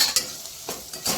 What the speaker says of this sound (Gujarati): પછી બધું મિક્સ કરી લઈશું।